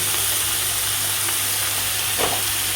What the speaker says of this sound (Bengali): দিয়ে এটা ভালো করে ভেজে নিতে হবে লাল লাল করে